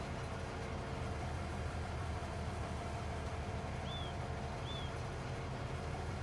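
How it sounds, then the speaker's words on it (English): Train rolling along a main line in Farming Simulator 25, a steady, dense rumble throughout, with two brief high squeals partway through and no talking. "the train will drive through without any problem"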